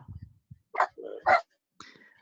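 A dog gives a few short barks and yips in a quiet room, separated by pauses, fairly near and moderately loud.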